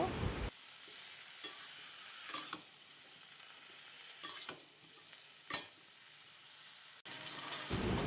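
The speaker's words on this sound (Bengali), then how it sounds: "এই পর্যায়ে এসে এখন আমরা দিয়ে দিচ্ছি বেগুন বেগুন দিয়ে ভালো করে মিশিয়ে নেব" Eggplant frying in a pan for an egg and eggplant curry, a soft steady sizzle broken by several sharp scraping stirs of a spatula, fairly quiet and close, no voices.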